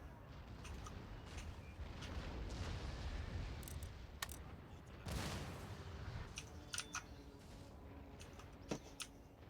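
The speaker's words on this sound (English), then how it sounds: "Their cannons are sort of raking our infantry." Cannon fire in the video game Empire Total War rakes infantry lines: a steady roar of battle with a loud boom midway and scattered sharp shot cracks throughout.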